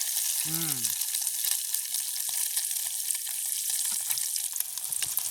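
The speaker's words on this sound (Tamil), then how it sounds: "இப்படியே மிச்ச முட்டைகளையும் பொரிச்சு எடுப்போம்" Eggs fry in a pan during village cooking, giving a dense, constant sizzle. A short voice sounds near the start, then the bubbling hiss continues alone.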